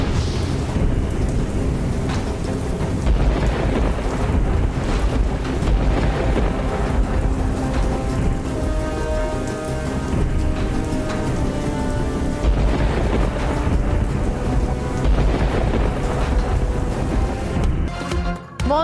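Monsoon rain in Lahore pours steadily with deep rolling thunder, a dense continuous wash of downpour and low rumbles under what sounds like a news music bed, with no speech.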